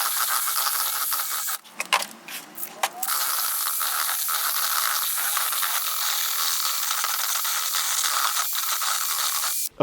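A mixer cage turning in tadelakt lime plaster gives a continuous loud churning whir and scrape, with a short stretch of clattering knocks near the start before the steady mixing noise resumes.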